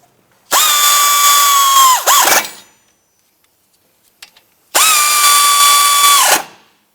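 Power tool snugging down the brake caliper bolts on a 2005-2009 Subaru Outback: two loud close whirring bursts, each winding down with a drop in pitch, separated by a quiet gap with a faint click.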